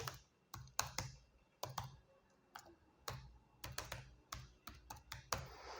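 An email address is typed on a computer keyboard in quiet, irregular runs of close, crisp key clicks with short pauses between bursts.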